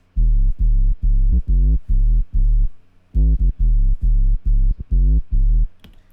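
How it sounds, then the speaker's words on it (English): Clean sine sub bass from Ableton Operator pushed through tape distortion, played alone as a riddim dubstep pattern of about a dozen short, heavy, evenly spaced low notes in two phrases. "It's a pretty standard sub, just a clean sine out of operator, getting pushed through tape distortion"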